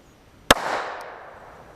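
A single sharp, loud .45 Super pistol shot from an RIA Ultra Tac HC, loaded with 8.9 grains of Unique, followed by a short outdoor echo that fades over about a second.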